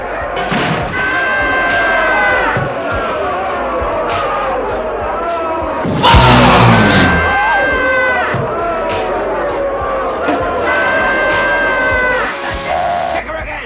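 A wrestling-ring crowd cheers and shouts throughout, a loud dense roar with voices calling out over it, swelling to a sharp peak midway before settling back to steady cheering.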